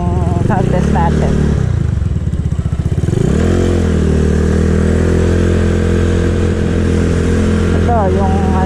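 Motorcycle engine idling at low RPM, a loud close steady thrum with a slight dip and recovery partway through, running alone without talk.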